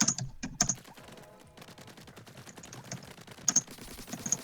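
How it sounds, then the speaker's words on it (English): Close, quick tapping on a computer keyboard while someone types a review, with irregular bursts of key clicks and a few sharper, louder strokes scattered through the passage. "I'm typing out a review right now,"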